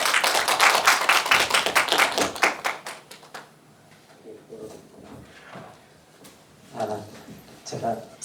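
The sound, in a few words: audience applause welcoming the lecturer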